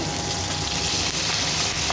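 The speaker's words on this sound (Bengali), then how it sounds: "তেল দিয়ে টমেটোটা আমি ভেজে নেব" Tomato frying in oil in a home kitchen pan during an egg, potato and cauliflower curry, giving a steady, dense sizzle that holds evenly throughout with no talking.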